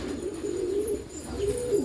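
Close, steady cooing from Ameeran Tambda pigeons on a Hyderabad farm, a low warbling murmur that swells and dips in two long phrases.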